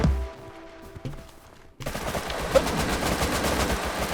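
AK rifle gunfire in the video game Rust: after a quiet start, a sudden sustained burst of rapid automatic shots, loud and dense, rattling on without pause.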